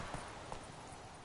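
Quick, soft hoofbeats of a galloping horse in The Witcher 3, a short burst of a few thuds under steady ambient game noise.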